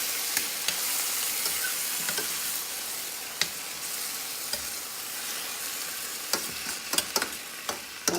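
A spoon stirs canned diced tomatoes with green chilies into a hot pan, with a steady sizzle and occasional sharp scrapes and clicks against the pan.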